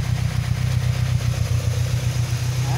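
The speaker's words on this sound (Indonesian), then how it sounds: "mesin masih hidup, mesin normal" A Toyota car engine idles steadily and loudly at close range during an IC regulator charging-system workshop practical, with a constant low hum and no speech.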